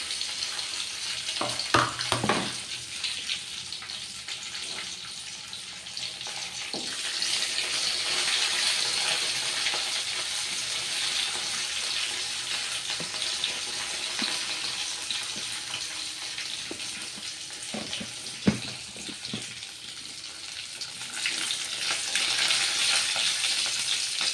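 Curry leaves and asafoetida sizzle steadily in hot oil in a home kitchen for a Kerala-style banana curd curry. The frying is close and continuous, with occasional sharp pops and stirring clatters, and nobody speaks.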